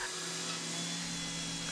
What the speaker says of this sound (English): Here I'm drilling the through holes.